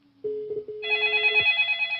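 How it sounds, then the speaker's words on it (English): A customer's telephone rings through a computer telephony system: a short tone first, then a bright, trilling electronic ring that keeps going, close and clear with no voices. "There is a customer's phone that is ringing"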